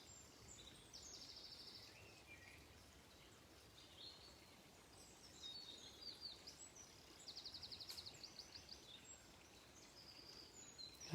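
Birds sing beside a burn during a quiet countryside walk, with scattered high chirps and tweets rising over the steady, soft rush of flowing stream water, faint and distant throughout.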